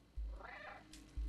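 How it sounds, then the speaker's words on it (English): A cat meows once in the video game Stray, a clear mid-length rising and falling call, close and moderately loud, framed by soft thumps from the game before and after. "so we can meow and then it kind of shows us which way we should be going"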